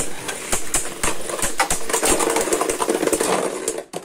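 Beyblade Burst tops Beat Kukulcan and Shelter Regulus spin at hyper speed in a stadium, making a loud, continuous whirring rattle full of sharp collision clicks that cuts off abruptly near the end.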